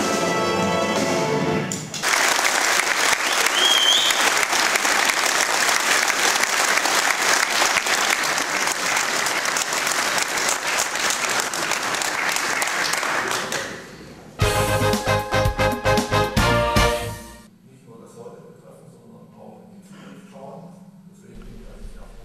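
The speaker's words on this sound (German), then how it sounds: "36 jungen Musiker ernteten dann auch den verdienten starken Beifall." Strong applause from a hall audience for 36 young musicians at the Mehrzweckhalle Obergurig, dense sustained clapping for about twelve seconds, fading briefly before a short burst of music and then quieter room sound.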